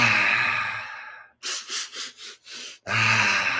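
Deep breathing during a breathwork exercise: a long audible exhale, then a series of five quick, rhythmic breaths, then another long, full breath, close and alone with no talk.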